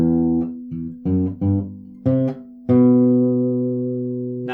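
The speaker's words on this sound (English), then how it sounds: "So this bass line starts with the 6th string open, and then you're going to have a series of 3 notes following that on the 6th string again" Electric bass guitar plays a bass line, starting on the open sixth string followed by a series of fretted notes on the same string: a few short, clipped low notes and then a long sustained note, loud and alone with no talking.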